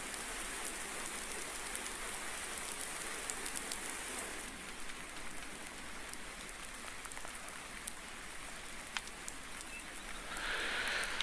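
Steady rain pours onto a farm, a dense continuous hiss of drops on surfaces at constant strength throughout, with no voices.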